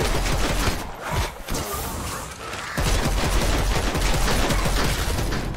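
Bursts of rapid gunfire from the video game Dead Island 2 rattle in dense volleys, briefly easing in the middle before resuming as a steady, loud stream of shots.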